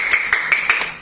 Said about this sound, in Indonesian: Tepuk tangan buat Alia